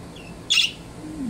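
A pet bird lets out a single short, bright squawk or chirp, close and fairly loud, with quieter background before and after.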